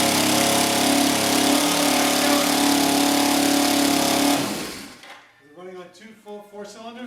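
A Kawasaki Ninja motorcycle engine runs loud and steady up close, then cuts off abruptly, leaving people talking.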